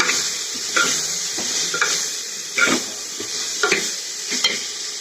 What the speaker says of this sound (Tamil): இதெல்லாம் எண்ணெயிலே நல்லா வதங்கிட்டுன்னு கலரி விடுங்க